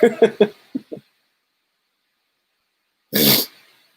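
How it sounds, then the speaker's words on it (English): A few short huffs and breaths, then a pause of silence, followed by one sharp, loud sneeze burst near the end. "That makes me think about sneezing, so I sneezed."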